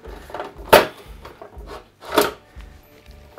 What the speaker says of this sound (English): I'm gonna remove the front panel